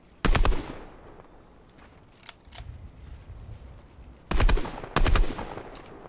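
Gunfire in a Fortnite match: two sharp bursts of rapid automatic shots, one early and a longer pair near the end, with a few lighter single cracks between, loud and close over a quiet game background.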